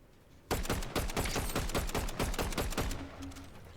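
Rapid bursts of automatic gunfire from a battle royale video game, a dense sustained volley of loud cracking shots that trails off near the end.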